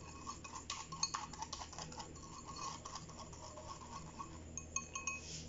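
A spoon mixes gluten-free chocolate cake batter in a bowl, giving faint, steady clinks and light scraping ticks that continue without talk.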